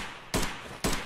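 Two sharp gunshots in the video game Escape from Tarkov, loud and close, spaced about half a second apart over a noisy background.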